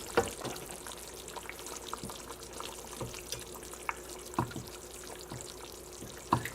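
A spoon stirring simmering beef stew in a pot, with soft bubbling and a few distinct scrapes and knocks against the pot, quiet and close, without speech.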